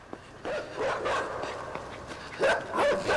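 A dog barks in the side-scrolling video game Inside, a few sharp yelping barks in quick bursts, moderately close amid a quiet game background.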